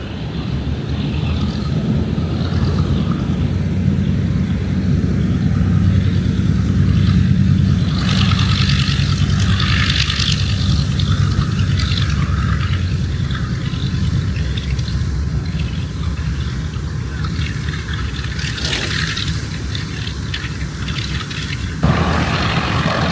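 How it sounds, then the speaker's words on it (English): A vintage aircraft called the Pacific Princess, based in Chino, California, arrives loudly in a steady engine drone with heavy wind buffeting, swelling and fading over about twenty seconds before cutting off abruptly. "This aircraft is the Pacific Princess from Chino, California, on their way home from Oshkosh"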